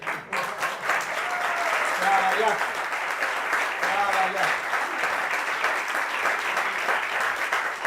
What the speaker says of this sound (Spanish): voy a pedir un aplauso para Leti